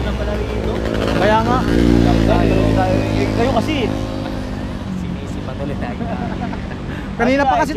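A motorcycle engine starts and runs close by, its steady low rumble holding under loud, overlapping voices of several people talking and shouting, with a brief rev near the end.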